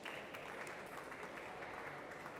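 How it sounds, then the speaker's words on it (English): Audience applause for a speaker taking the stage at a talk on creative effectiveness, steady dense clapping throughout at moderate level, with no voices over it. "Let's give him an applause."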